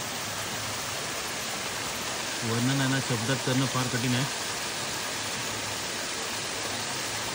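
Flowing stream water where people bathe near the village of Jambhrun in Ratnagiri: a steady, broad rushing wash that runs the whole time, with a voice speaking briefly over it midway.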